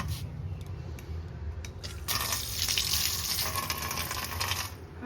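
Water runs continuously from a tap during bathing, a steady close rush that grows brighter and louder partway through, with splashing and shifting flow.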